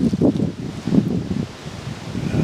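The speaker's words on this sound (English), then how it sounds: "I know you can hear that wind" Wind blows outdoors ahead of an approaching weather front and rushes steadily into the microphone. The roar is loud and continuous, with gusty swells and a rustling, buffeting texture.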